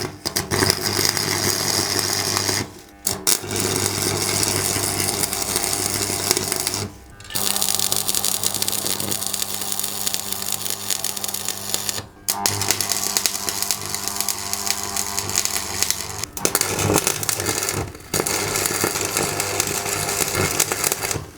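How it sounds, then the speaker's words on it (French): Stick electrode welding on a steel frame built to carry a Peugeot 205 GTI body shell, a steady loud crackling buzz running in long bursts broken by a few brief pauses, with no talking. "maintenant on va souder à la bonne vieille baguette à soudure"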